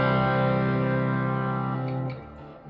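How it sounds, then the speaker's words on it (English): A big C chord on electric guitar rings through a Hotone Verbera pedal on its Ghost Reverb setting, mix at 15, sustaining thick and steady for about two seconds before fading into a staticky, shimmering tail. "It's called Ghost Reverb. I'm gonna put the mix up to 15 and play a big C chord for you."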